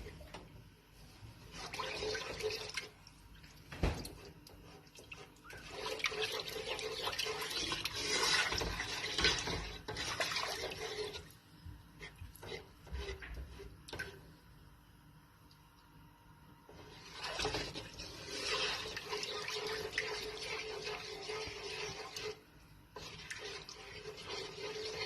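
One and a half cups of milk are stirred into a honey mustard sauce on a CampQube camp cooker, producing continuous wet sloshing and scraping that swells and fades for about 25 seconds, with no talking.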